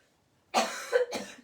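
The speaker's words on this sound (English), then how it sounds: "Not coronavirus, I've got a cough." Two harsh coughs after a moment of near silence, close and fairly loud, the second shorter than the first.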